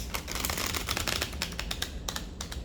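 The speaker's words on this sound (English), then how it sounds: "And do another shuffle" A deck of playing cards is shuffled, producing a rapid fluttering riffle of tiny clicks with a few sharper snaps near the end.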